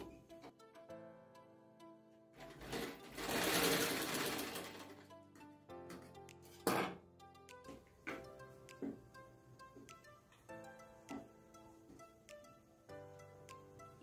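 Sewing machine stitching a blouse, heard as a short close burst of whirring and stitching in the middle, surrounded by quiet ticks, clicks and handling of fabric.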